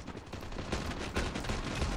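Gunfire in Call of Duty Mobile: a short, muffled run of rapid shots, fairly quiet and compressed, heard alone with no talk.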